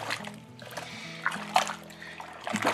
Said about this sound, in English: So you need to stir it to get all the malt extract and the boiling water.